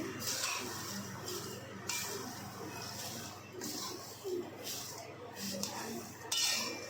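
Poha and sugar are stirred in a pan with a spoon, giving a continuous scraping, rustling clatter with faint clinks of metal against the pan throughout.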